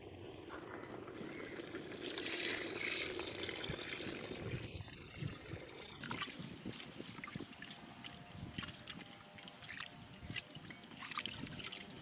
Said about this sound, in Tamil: தேவையான அளவு நம்ம தண்ணி ஊற்றிக்கலாம்